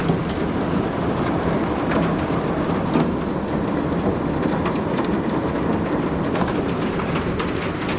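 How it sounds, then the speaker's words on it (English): Heavy rain pounds outside a converted school bus, a loud continuous hiss and patter with low thunder rumbling underneath, steady from start to finish with no voices. "it's raining pretty hard."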